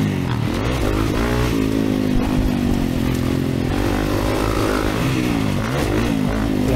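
A 2024 Kawasaki KX450 motocross bike ridden on the dirt track at Eugene MX, its engine loud and close throughout, revving and shifting steadily, with faint clatter from the machine.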